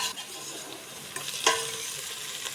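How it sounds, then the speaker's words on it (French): Food sautés in a pan over moderate heat as part of a shellfish and tomato sauce dish, a soft steady sizzle with a brief sharper clatter of stirring midway, no talking. "On le fait revenir à feu pas trop fort."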